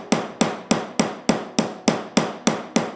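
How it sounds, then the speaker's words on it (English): A solid silver Pocket Master fountain pen being hammered by hand: ten sharp, evenly spaced metallic strikes, about three per second, each ringing briefly and fading before the next, close and loud with no talk. "You just saw me hammering on the Pocket Master in solid silver."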